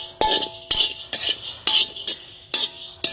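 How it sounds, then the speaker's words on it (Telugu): Chana dal dry-roasts in a pan while making sambar powder, with a steady series of crisp scraping clinks from the stirring utensil about twice a second, close and clear with no talk. "ఇప్పుడు శనగపప్పు వేసుకుని 2 నిమిషాలు వేయించుకోవాలి"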